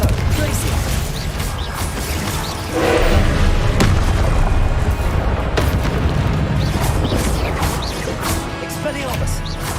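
Spell blasts and explosions from the Hogwarts Legacy video game boom and crash continuously in dense, loud bursts, mixed with a voice calling out throughout.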